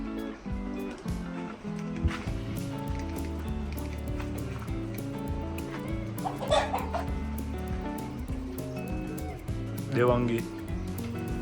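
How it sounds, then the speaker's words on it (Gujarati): Domestic roosters clucking nearby, the short bursts of clucks mixed under steady talking from people close by. "આપણા કુકડા તમને બતાવું."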